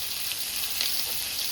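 Fish fries in a pan with a steady, close sizzle and a slight burst of crackle as it is flipped over, alone and fairly loud for a brief moment.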